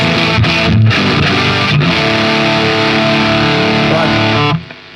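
A distorted electric guitar through a Plexi-style amp tone on a Neural DSP Quad Cortex rings out with sustained, hissy amp crunch, a couple of brief pick attacks early on, then cuts off abruptly near the end.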